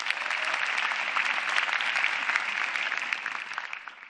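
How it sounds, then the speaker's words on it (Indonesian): An audience applauds at the SUCI X stand-up comedy semifinal: a dense, steady wash of clapping holds for about four seconds, fairly close and even, with no voices over it. "Tepuk tangannya mana Usmar Ismail?"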